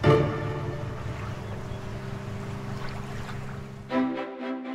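Canal boat engine on a waterway in northern Italy, a steady close droning hum with strong low tones that holds throughout, then shifts in pitch near the end as the throttle changes.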